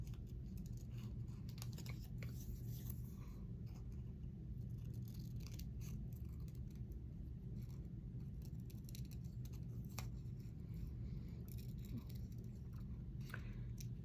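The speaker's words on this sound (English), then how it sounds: "Let me cut the butterfly as well." Scissors cut a paper butterfly for altered playing-card crafts, with quiet, quick snips and crisp paper rustle in an irregular rhythm over a constant low background hum, close up.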